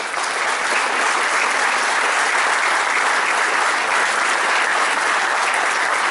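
A crowd of teachers and students at a school anniversary event claps steadily and loudly, dense, sustained applause with no pauses from start to finish.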